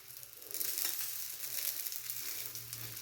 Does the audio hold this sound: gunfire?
no